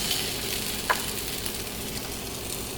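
Egg-dipped bread for French toast is laid in a hot frying pan and sizzles steadily and close. One brief soft contact sound marks the moment it goes in.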